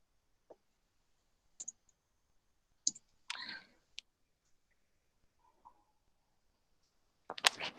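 Sharp, quiet computer mouse clicks, single taps scattered irregularly across a silent background, with a denser burst of clicks near the end.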